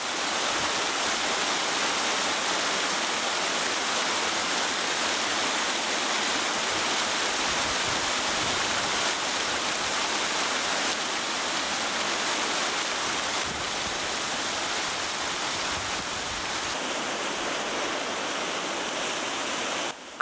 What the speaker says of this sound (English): Down below, the water is streaming through the forest.